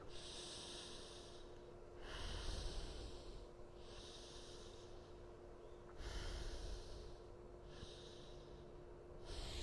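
Slow, deep breathing during a beginner's yoga pose that opens the chest. Close, audible inhales and exhales alternate in long, even cycles of about two seconds each, with no other sound.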